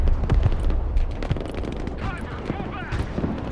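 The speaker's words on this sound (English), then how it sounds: "There's a lot of heavy machine guns about." Heavy machine gun fire in Broken Arrow during an airborne assault on an airbase, with rapid bursts and booming reports over a continuous din of battle and some voices.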